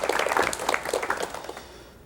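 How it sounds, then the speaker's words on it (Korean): Applause from a studio audience on a 1986 Korean television talk show, welcoming a former National Assembly vice-speaker with dense, steady clapping that fades toward the end. "여러분 박수로 맞이해 주시면 대단히 고맙겠습니다"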